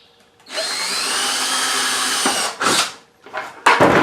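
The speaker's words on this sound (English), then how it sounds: "I'm going to drill" A power drill bores holes in a bucket for a homemade sieve with a 5/16 bit, giving a loud whining run of about two seconds followed by shorter bursts as the bit bites through.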